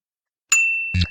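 A single bright bell ding in a video game rings out clearly from silence and lingers as a clean tone, followed by two short thumping clicks.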